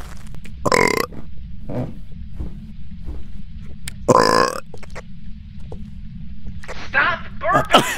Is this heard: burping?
yes